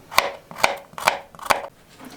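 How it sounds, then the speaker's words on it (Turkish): Four sharp knife chops through garlic on a cutting board at a steady rhythm, close up, with no talking. "Öncelikle sarımsağımızı doğrayarak başlayalım."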